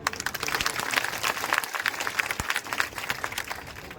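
Steady applause from a rally audience at a BSP candidate's election campaign meeting in Deeg district, Rajasthan: dense, continuous clapping throughout, fairly close and even, with no talk over it.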